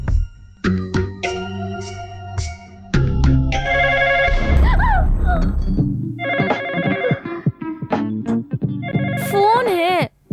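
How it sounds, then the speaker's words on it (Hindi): A telephone rings in a dubbed South Indian movie scene. Repeated electronic ringtone bursts and melodic tones play at close range, broken by pauses, with voices speaking between and over them. "फोन है।"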